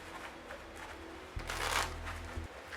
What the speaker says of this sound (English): Again, he shuffles.